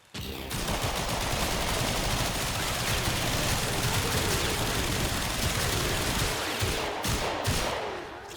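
Mesa's Regulators dual pistols in the game Warframe, built with corrosive and heat, fire without pause: a loud, dense stream of rapid shots lasting about seven seconds before tailing off at the end.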